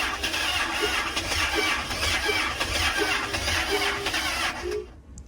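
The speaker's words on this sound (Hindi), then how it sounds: "इंजन जो है स्टार्ट नहीं हो रहा" A Hino J08C diesel engine cranks without catching, a rhythmic starter churn with regular compression pulses for about five seconds before cutting off abruptly, loud and close.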